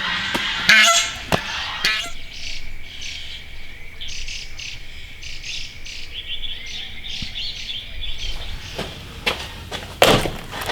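A large goose honks loudly in bursts as it is grabbed by hand outdoors, with crickets and insects droning steadily in the background.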